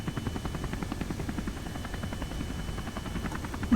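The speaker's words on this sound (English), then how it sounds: "We could shut the helicopter noise off." Steady rhythmic chopping whir of a helicopter rotor in the video game Kerbal Space Program, moderately loud and continuous, with no voices.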